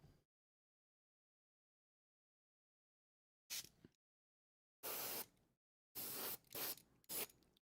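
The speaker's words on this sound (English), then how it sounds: "when airbrushing like this" Airbrush spraying paint onto a model, heard as four short hissing bursts of spray, the later ones longer and closer together, starting after a long silence.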